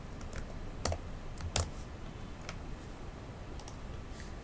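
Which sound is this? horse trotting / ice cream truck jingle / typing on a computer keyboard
typing on a computer keyboard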